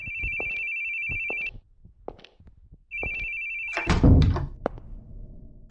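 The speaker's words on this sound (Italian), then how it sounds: "Squilla il telefono." A telephone rings twice in The Boogie Man video game, each electronic trill burst followed by a pause, then a couple of heavy thunks close by.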